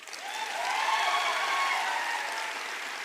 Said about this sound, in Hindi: आर्मी वाले सर के लिए जोरदार तालियां।